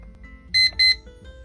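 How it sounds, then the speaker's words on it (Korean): A countdown timer alarm rings two short, bright electronic beeps in quick succession, loud and close against an otherwise quiet background with a faint low hum. "시간이 다 지나서 빨간색 부분이 없어지면 알람이 울리는 타이머입니다"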